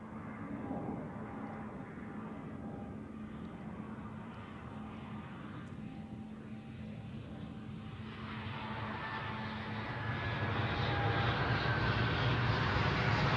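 A Gulfstream business jet at Zurich Airport, a quiet, low engine rumble that builds in loudness over the last few seconds as the jet draws nearer.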